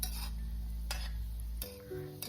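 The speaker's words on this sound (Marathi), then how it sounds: "तेल हलवत राहायचंय, गुलाबजामला नाही हलवायचंय." A spoon stirs hot oil in a pan on low flame while khoa (mawa) gulab jamun fry. A few soft, separate scraping strokes sound over a steady low hum, with no talking.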